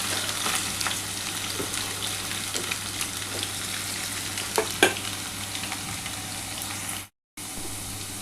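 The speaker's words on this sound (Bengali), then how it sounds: "আগে এই আলুটা একটু ভাজা হোক।" Potatoes frying in a pan while cooking a vegetarian pumpkin-greens and poppy-seed dish: a continuous steady sizzle and crackle with occasional louder pops, close by and without talk.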